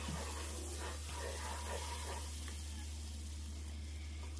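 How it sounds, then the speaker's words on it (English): Flour is stirred into chicken pot pie filling in a hot pan, giving a steady close sizzle with soft scraping stirs that fade slightly toward the end. "Add the flour in. And stir that around."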